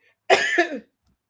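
A single short, harsh cough from a person with a cold, close and loud, alone against silence.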